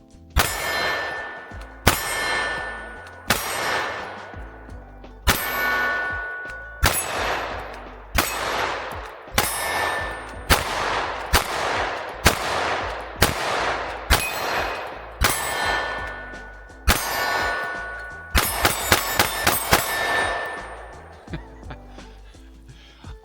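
Canik MC9 Prime pistol fired slowly at a range, a string of loud, sharp reports spaced about a second or two apart, with a quicker cluster of shots near the end and ringing echoes after each.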